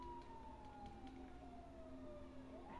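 An ambulance siren in the video game GTA 5 wails, sweeping slowly downward in pitch, then rising again, steady and fairly loud over a constant engine-like rumble.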